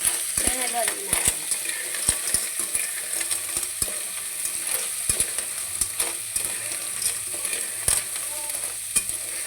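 Ginger sautéing in a pan for clam soup, a steady close sizzle broken by repeated scraping and clinks of a utensil stirring in an irregular rhythm.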